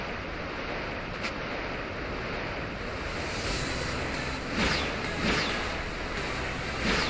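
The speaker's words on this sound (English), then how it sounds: "That's a huge wave, let me go up." Ocean surf rolls and washes continuously while riding Mantine across the waves in Pokemon Ultra Moon, with a steady windy hiss and a couple of louder surging wave swells near the end.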